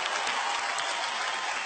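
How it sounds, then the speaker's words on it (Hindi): A studio audience at a dance competition show claps loudly and steadily in a brief, unbroken burst of applause. "ओह जोर से तालियां हो जाए।"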